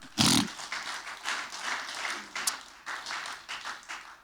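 A church congregation claps and applauds in praise of the Lord, a loud burst at the start followed by steady, uneven clapping with a few sharper accents, fairly close and without speech.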